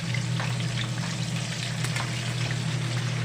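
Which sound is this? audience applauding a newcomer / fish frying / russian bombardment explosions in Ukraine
fish frying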